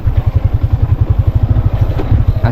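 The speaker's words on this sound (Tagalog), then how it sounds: "nakamotor kami pero hirap yung motor dito" A motorcycle engine labors over a rough, rocky, potholed dirt track, its low, pulsing engine note chugging in steady rapid beats, loud and close, with faint clatter over the strain.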